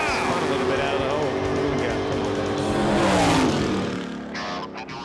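1968 Six Pack Barracuda on a drag strip pass, tires spinning off the line as the loud engine roars and then fades away, with a voice talking over it.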